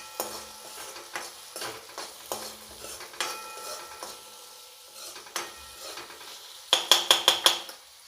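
Leftover masala khichdi being stirred in a pan with salt added, a spoon scraping and knocking against the metal in irregular strokes with a soft sizzle beneath, ending in a quick run of sharper taps on the rim.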